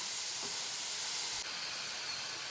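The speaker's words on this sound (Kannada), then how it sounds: "ಎರಡು ಸೈಡು ಕಲರ್ ಚೇಂಜ್ ಆಗೋ ತನಕ ಲೈಟಾಗಿ ಫ್ರೈ ಮಾಡ್ಕೊಳ್ಳೋಣ" Potato French fries frying lightly in hot oil until both sides change colour, a steady close hiss and sizzle running unbroken throughout with no talk.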